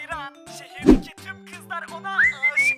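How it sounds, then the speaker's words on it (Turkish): A short rising whistle near the end, heard over background music and voices from a screen, with a dull thunk earlier. "ıslık sesi duyuyorum"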